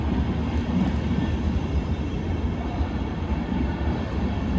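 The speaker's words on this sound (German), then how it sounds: "Caution, the train is arriving." A Deutsche Bahn ICE train pulls into a platform, a steady, loud low rumble and rolling roar filling the station without letup.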